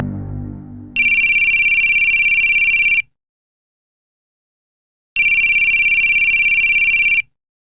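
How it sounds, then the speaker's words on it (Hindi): An electronic phone ringtone rings in two loud, steady bursts of about two seconds each, separated by a pause, after a brief murmur of voices. "तुम्हारा फोन बज रहा है"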